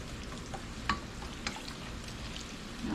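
Homemade donuts fry in hot oil, giving a steady, close sizzle and crackle throughout, with a few sharper pops and a scraping stir along the way and no speech.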